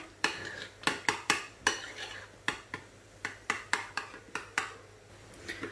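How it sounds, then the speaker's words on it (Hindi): A spoon stirs a special mayonnaise-based sauce with red chili for a chicken paratha roll in a bowl, giving a steady run of sharp metallic clinks and scrapes close up, about a dozen taps in uneven rhythm. "इसको करें मिक्स अच्छे से।"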